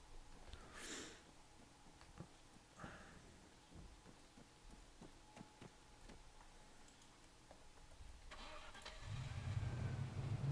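A car engine idles and runs in ARMA 3, with a soft steady mechanical hum, light ticking and a few clicks, swelling into a louder deeper rumble near the end.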